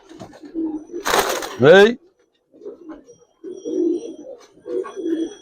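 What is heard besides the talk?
Giribaz pigeons cooing as a pair is released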